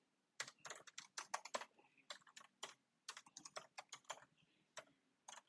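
Keystrokes on a computer keyboard, close and fairly quiet, in quick irregular bursts with short pauses between them.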